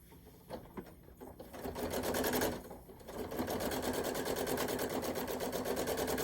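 A sewing machine stitches through a quilt in bursts, short starts and stops at first, then a longer steady run of rapid, rhythmic needle whirring after a brief pause.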